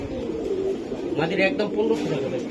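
A red checker female racing pigeon, one of several for sale, gives low soft coos close by, mixed with faint background voices and room noise.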